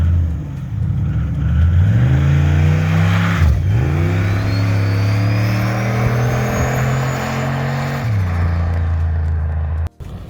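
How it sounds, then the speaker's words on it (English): A Subaru engine in a smart kart revs close by, rising and holding at a higher pitch with a whine climbing above it, then dropping back down before cutting off. "Sounds like a Subaru, it looks like a Subaru, it's still a Subaru."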